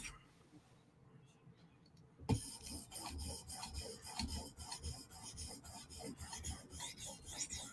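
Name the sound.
sharpening a Chris Reeve Umnumzaan knife blade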